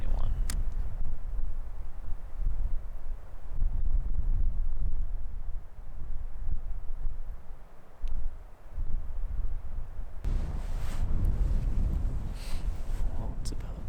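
Gusty wind blows outdoors during a whitetail hunt in Idaho, roaring across the microphone in loud buffets that rise and ease, under a man's quiet speech throughout.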